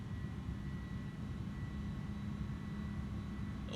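Aircraft engines in a flight simulator, a steady low drone with a faint whine above it, holding at an even level throughout with no talking.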